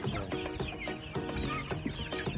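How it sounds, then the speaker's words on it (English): Poultry-farm turkeys calling in a dense, overlapping chorus of clucks and gobble-like calls, close and steady throughout with no talk. "Turkeys here."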